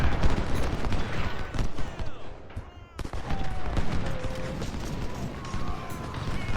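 Howitzer artillery fire in Ultimate General: Civil War, dense overlapping booms and crackling volleys of battle sounds throughout, loud and close, with background game effects.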